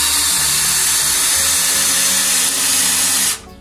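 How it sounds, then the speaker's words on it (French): A 14-volt cordless screwdriver drives a self-drilling screw into an oak board, its motor whining hard and steady under load, loud and close, before cutting off sharply just before the end. "Donc ça peine pour visser dans du chêne, mais c'est normal."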